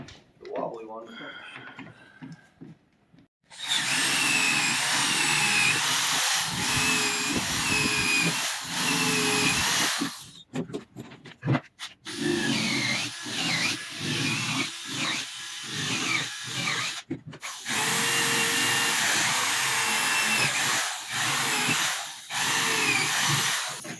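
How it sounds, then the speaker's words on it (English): A power drill with a long bit whirs loudly in several long bursts, stopping and starting, with short pauses of quiet and rattling between runs. "So that drill bit's not quite long enough, so we use the Wobbly one."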